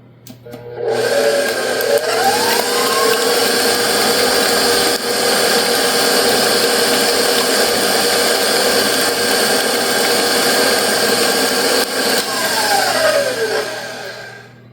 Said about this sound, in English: And let's mix them up now.